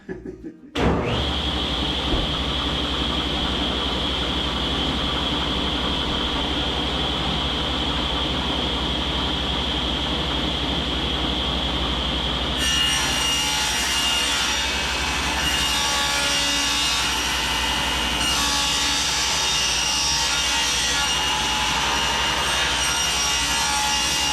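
A table saw spins up with a sharp whine, then rips a long strip of plywood for a soffit, a steady loud buzzing cut that roughens and shifts in tone partway through.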